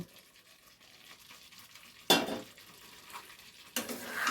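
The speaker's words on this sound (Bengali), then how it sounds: "এবার ভাজা আলুগুলো আস্তে আস্তে আমি এর মধ্যে দিয়ে দেব" Fried potatoes slide into a hot pan of potato curry and get stirred, giving two sharp sizzling bursts over a quiet background of faint scraping.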